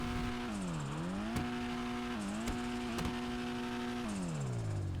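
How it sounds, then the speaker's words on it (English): A Dinka Blista Kanjo in GTA Online revs repeatedly, its engine pitch rising and falling through several throttle blips, with sharp turbo blow-off valve bursts between them, loud and continuous with no talk. "Let's give it some gas and do a sound test."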